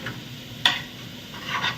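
A jaggery mixture is stirred in a pan over low heat, with soft scraping and faint sizzle and one sharp clink of the utensil against the pan.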